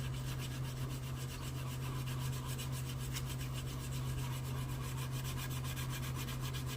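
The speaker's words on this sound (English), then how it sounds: "get some wet sanding done" Steady wet sanding of soft primer on a 1967 Impala model car body, a continuous close rubbing rasp with a low hum underneath, no talking.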